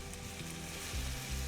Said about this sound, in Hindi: तो आपने तवे को हाई हीट में रखना है, पहले बटर ऑयल लगाना है, फिर उसी में पकाना है।